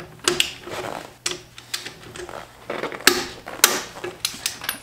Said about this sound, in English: this tool key here goes to this lug nut here, and that's how we're gonna try to break loose the lug nuts